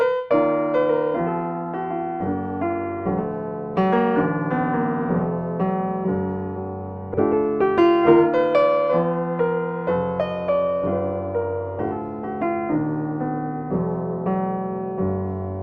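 A solo instrumental passage of sustained chords and melody notes in an altered tuning, played steadily and clearly with no voices, its harmonies sounding slightly unusual in tuning.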